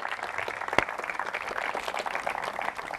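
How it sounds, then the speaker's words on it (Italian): An evening concert audience with an orchestra present gives a round of applause, a fairly thin and uneven spatter of clapping with one sharp near clap early on, moderately loud throughout. "quindi un applauso a voi stessi"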